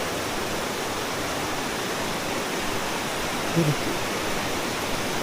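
Daranak Falls roars as a constant, dense rush of falling water, steady and enveloping from start to finish, with a faint brief knock partway through and no clear talking.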